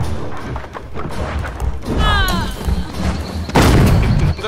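A grenade blast in the online multiplayer game Nosgoth, a heavy boom and thud standing out mid-clip over game noise and a brief chirping effect, with a louder crashing burst near the end.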